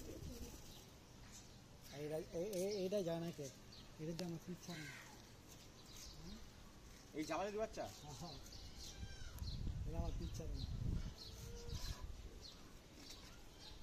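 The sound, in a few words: male pigeon squab calling in a pigeon loft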